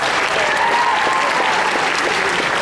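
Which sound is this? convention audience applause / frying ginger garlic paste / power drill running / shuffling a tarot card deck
convention audience applause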